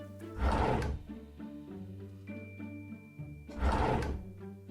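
A plastic toy drawer slides open or shut with two loud scraping, thudding bursts a few seconds apart. Quieter bumps and clicks sit between them.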